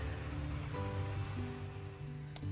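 Steady rain falls on a morning campsite in Canada, a dense continuous hiss with low rumble and faint tonal hum, moderately loud and unbroken with no talk.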